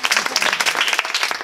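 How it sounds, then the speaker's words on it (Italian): Audience at a street arts festival breaks into lively applause, dense rhythmic clapping at close range, loud and continuous. "Nicolò, un applauso, signori."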